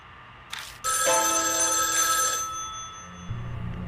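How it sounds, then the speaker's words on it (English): A telephone ringing in the next room in the video game Spirit Hunter NG: one loud, bright electronic ring held for about a second and a half, alone with no voices. "Suddenly the phone from the next room rings."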